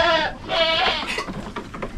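Goats bleating on a small farm, two or three drawn-out nasal calls close by, overlapping with one another and followed by fainter rustling.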